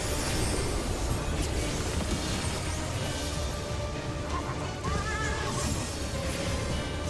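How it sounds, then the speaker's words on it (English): A horse in a video game whinnies amid dense in-game action sounds, the neigh blending into a busy, loud mix of effects and music. "Oh, whoa, horsey."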